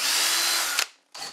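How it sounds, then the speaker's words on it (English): A power drill bores clearance holes through a short block of wood, a loud high motor whir that cuts off sharply, followed after a brief pause by another short burst. "Next, I'll drill a couple of clearance holes through the block,"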